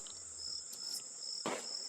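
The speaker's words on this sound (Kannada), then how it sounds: "ನೋಡಿಲ್ಲಿ ಸೊಳ್ಳೆ ಒಂದ್ ರಾಶಿ ಬಂದವೆ" A swarm of mosquitoes gathers outdoors at dusk in a cartoon village, giving a thin, steady high whine with a short louder swell near the end.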